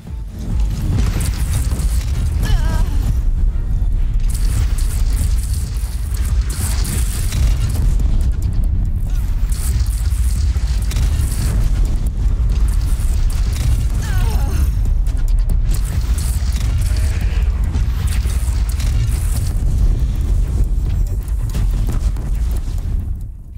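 Cannon fire in Horizon Zero Dawn, with heavy booming blasts in rapid repetition and a continuous loud rumble of battle noise throughout.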